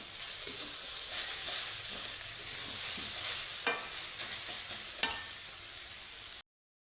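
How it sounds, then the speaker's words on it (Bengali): A potato and papaya vegetarian curry sizzles gently in a pan as a spoon stirs it, giving soft frying hiss with several distinct scraping clinks before a brief cutoff near the end. "ঢাকা চাপাটা উঠিয়ে একটু নাড়ি চেড়ে দেব"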